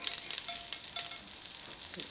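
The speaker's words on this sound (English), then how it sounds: "To test to know if the oil is hot enough, take a couple of those grains of rice and put them in there." Steady crackling sizzle of a few rice grains frying in hot oil, a continuous bright hiss with small pops, close and moderately loud, no talking.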